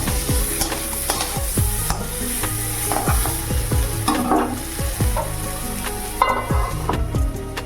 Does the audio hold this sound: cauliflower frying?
yes